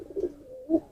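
A pigeon with Newcastle disease gives two soft, low coos about half a second apart, close by in a quiet setting.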